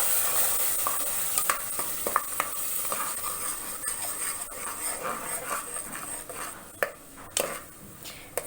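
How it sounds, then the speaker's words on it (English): Ground spice paste for a black chickpea (kala chana) curry fries in a pan, a steady close sizzle broken by scraping stirs and a few sharper clicks of the spoon, with no talking. "Fry it for about 3 to 4 minutes"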